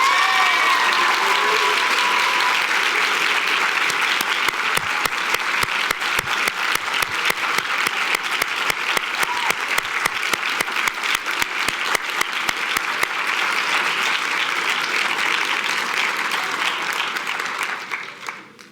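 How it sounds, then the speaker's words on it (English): Sustained applause with cheering from an audience at a university speech competition night, honoring the winner; dense, steady clapping continues loud throughout before fading out at the very end. "let's give one more huge round of applause"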